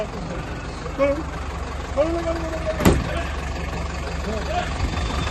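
Engines of a bus and a police vehicle rumble along a road during a protest crackdown, a low continuous drone with passing vehicle tones, a sharp brief crack near the middle, and voices faintly under the traffic noise.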